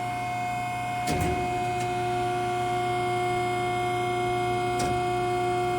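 A 55-ton Adira CNC hydraulic press brake moves slowly up and down, giving a steady mechanical hum with constant tonal whine and a few faint clicks, with no talk.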